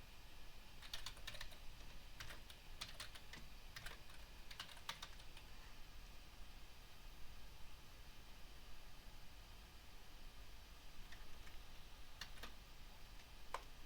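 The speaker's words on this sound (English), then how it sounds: "Type in some password." Faint, rapid clicks of a computer keyboard as a password is typed in bursts, quiet and close over a soft steady hiss, with pauses between groups of keystrokes.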